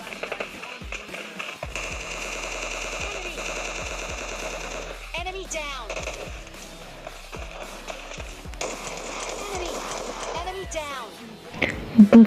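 Gunfire in the mobile battle-royale game PUBG Mobile Lite: repeated bursts of rapid automatic shots and scattered single reports over a steady in-game background hum, continuing loudly for most of the stretch with a sharp cluster at the end.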